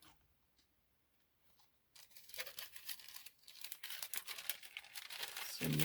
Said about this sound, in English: put these back in my envelope.